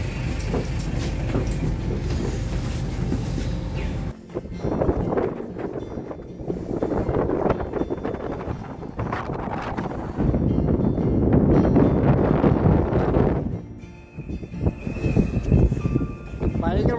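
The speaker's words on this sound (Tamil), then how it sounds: "பயங்கரமாக காத்தடிக்குது." Strong wind buffets the microphone outdoors on a road in the Netherlands, heavy low roaring gusts that rise and drop, with a voice talking intermittently over it.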